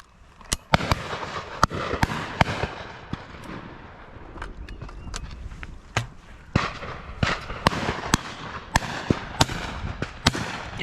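Shotguns fire at a high pheasant shoot: a long series of sharp, cracking reports at irregular intervals, some close and loud, others fainter and farther off, over a faint outdoor background.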